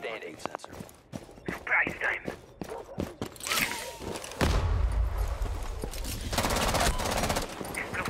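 Rainbow Six Siege gunfire with a hard-recoiling gun: sharp shots and short bursts early, then a dense continuous spray of fire in the second half, mixed with footsteps and a voice talking over it.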